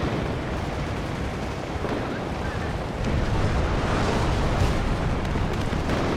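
Artillery strikes land in the WARNO video game battlefield as a dense, continuous rumble of overlapping blasts, loud and sustained, swelling slightly louder partway through with no distinct pauses.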